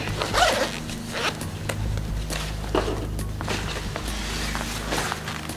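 Zipper pulled along a bulletproof backpack vest, several quick zipping strokes up close with rustling fabric and a low background hum, no talk.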